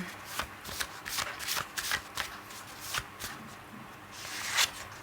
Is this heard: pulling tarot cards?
yes